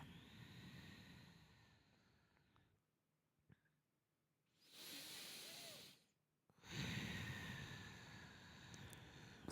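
Long audible exhalations come during a spine mobility exercise. Soft breathy rushes of air rise and fall with quiet pauses between them, close to the microphone, with no talking.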